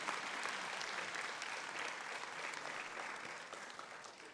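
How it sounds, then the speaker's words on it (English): An audience at a school district retirement ceremony applauds a retiring staff member, with steady, dense clapping that holds even from start to finish and fades slightly at the end. "Clap for Mary."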